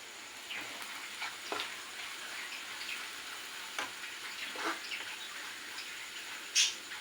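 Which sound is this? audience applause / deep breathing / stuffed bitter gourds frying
stuffed bitter gourds frying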